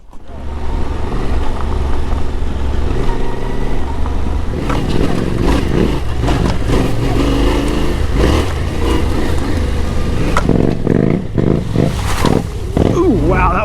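A Yamaha Tenere 700 motorcycle engine rumbles steadily while riding, loud and continuous with wind buffeting and occasional revs, and a rider's voice talks over it.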